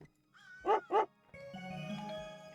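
A dog in the NORCO video game gives two clear, close barks in quick succession, followed by a soft electronic hum and tone.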